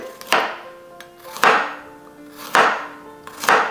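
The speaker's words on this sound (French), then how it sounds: "pareil ici avec l'ail, on vient faire des rondelles" A knife slicing garlic into thin rounds on a cutting board makes four sharp, evenly spaced chops about a second apart, loud and close, each with a brief ringing tail.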